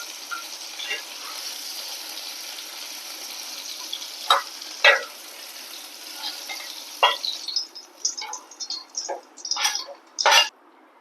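Kashmiri chilli powder sizzles in hot oil for a chammanthi: a soft, steady fry with sharp crackles and spits that get busier toward the end, no talking over it.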